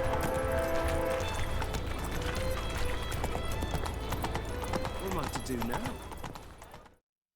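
Horse hooves clip-clopping at a steady run while riding through the city of Novigrad in The Witcher 3, close and loud over game ambience and music with a voice talking, fading out at the end.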